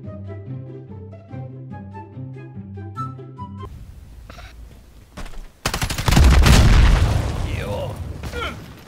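Explosions and rapid gunfire in a Call of Duty Modern Warfare match follow a stretch of tonal game music, then break into a loud, dense roar of blasts and bursts toward the end.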